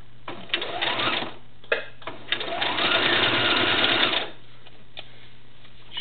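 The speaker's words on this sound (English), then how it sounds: "Should be able to sew right over those pins and straighten them out as you're going." Domestic sewing machine stitching a doll's fabric legs, running over pins: short bursts of rapid mechanical whirring, then a longer sustained run of stitching, close and clear, with brief pauses between.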